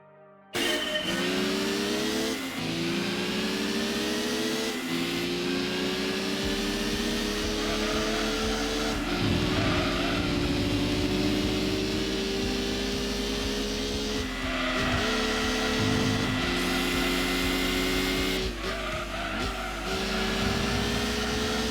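A race car engine drones steadily through a lap of the Rome city circuit in Gran Turismo 2, holding loud high revs with repeated dips and climbs as the car shifts gears and brakes through corners.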